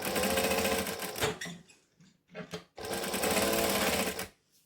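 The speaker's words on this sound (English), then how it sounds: "So I'm going to stitch 1/8 of an inch from the center" A sewing machine runs a decorative stitch along a fabric bag, whirring loudly in steady runs broken by brief pauses and short bursts, then resuming.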